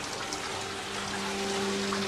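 Water runs steadily through Bill Phillips' hydraulic economics machine, a continuous close flow and trickle with a faint pump-like hum underneath, holding even and unbroken throughout.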